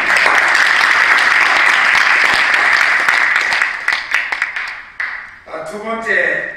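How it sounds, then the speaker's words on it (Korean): Loud, sustained applause from a congregation at a Korean church thanksgiving service and installation ceremony for an elderly association's Christian fellowship, steady for several seconds before thinning into scattered claps as a voice begins speaking. "하나님께 영광의 박수 한번 돌리겠습니다"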